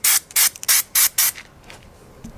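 Spray gun shooting a drop coat texture from about 24 inches away: five sharp hissing bursts in quick rhythm, then a quieter tail of fainter sputters, no talking.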